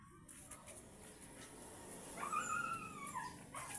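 A dog gives faint whimpers and a thin rising whine toward the end of a quiet stretch, heard from a distance and at low volume.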